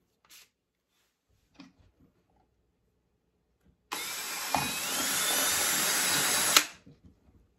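A power drill bores holes in a brittle plastic container for a homemade hydroponic setup, a steady loud whine lasting about three seconds after a few small knocks and handling sounds, with no talk over it.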